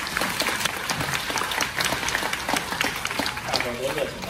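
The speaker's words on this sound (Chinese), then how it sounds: "谢谢您的掌声鼓励" An audience at a Deyunshe crosstalk comedy show at Guangdelou claps steadily in dense applause, while a performer speaks over it.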